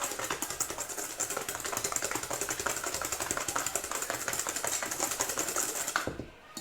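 Pie crust mixture whisked vigorously in a bowl during home Thanksgiving cooking, a fast, steady rattling scrape that runs continuously and loud before stopping abruptly near the end.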